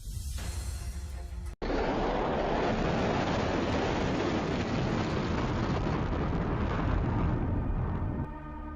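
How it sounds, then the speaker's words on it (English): Ammunition in a Russian military convoy ignites and detonates in a forest: a sharp blast, then a sustained loud roar of burning and explosions that fades slightly at the end. "Followed by ignition and further detonation."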